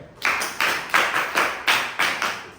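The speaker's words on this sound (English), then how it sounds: "Clap for them." A classroom group claps for a team during a lesson on the rectilinear propagation of light, producing about seven or eight sharp, evenly spaced claps in unison, close and fairly loud.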